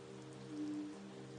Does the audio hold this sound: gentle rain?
yes